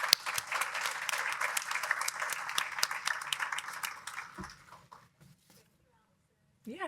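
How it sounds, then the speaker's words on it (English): Dense applause from a crowd at a family day event on turning grief into action, with voices mixed in, tapering into scattered claps and quiet before a brief voice at the end. "just round of applause for everyone."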